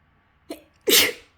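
A single close, sharp human sneeze with a brief inhaled catch just before, loud and alone in a quiet indoor room.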